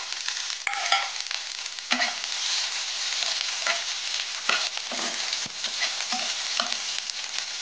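Onion and crushed ginger sizzle in a hot pan, a constant crackle broken by repeated sharp scrapes and knocks of a spatula stirring against the pan.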